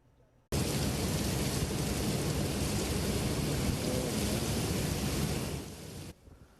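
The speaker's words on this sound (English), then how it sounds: "Days of nonstop rain turning streets into rivers right now." Heavy, nonstop rain pours onto the flooded streets of Fort Lauderdale, Florida, a loud, unbroken roar that starts abruptly, holds steady for several seconds, then cuts off.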